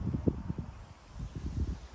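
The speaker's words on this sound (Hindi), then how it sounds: "हवा चल रही है, ठंडी ठंडी हवा चल रही है।" Cold wind blowing outdoors in a park beside a small lake in Sweden under cloudy skies, low buffeting gusts and rustling rumbling against the microphone in uneven pulses.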